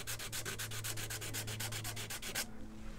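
Sandpaper rubbing back and forth on a banjo part with very light pressure, a steady rhythm of about sixteen quick close strokes that stop abruptly near the end.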